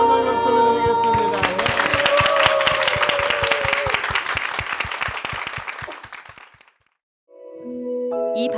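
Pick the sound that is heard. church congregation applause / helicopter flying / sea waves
church congregation applause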